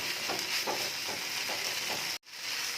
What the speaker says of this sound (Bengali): চিকেনটাকে আমি ভালোভাবে একদম ড্রাই করে নেব